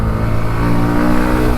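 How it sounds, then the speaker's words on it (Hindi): A 2024 Bajaj Pulsar NS160 motorcycle's 160 cc engine revs steadily and loudly while riding, with a continuous close-up drone and no talk. "भाग रही है बाइक।"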